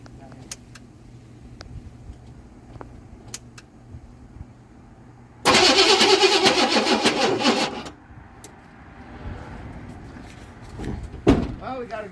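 An old Chevrolet Suburban's engine, unused for a few years, cranks and fires into a loud, rough running burst of a couple of seconds, then settles lower, with clicks, clunks and quiet talk around it.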